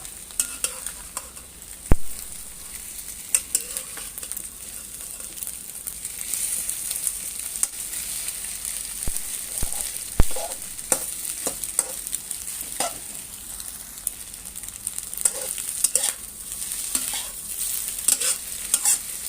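Eggs are stir-fried in a pan with pickled mustard greens, a steady sizzle under repeated spatula scrapes and clanks against the pan, close and without talk.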